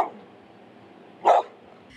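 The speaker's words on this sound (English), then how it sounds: "a pack of dogs on the loose in a Habitat for Humanity community" One short, sharp bark from a loose dog roaming a residential neighborhood rings out at mid-distance over a low, steady outdoor hum.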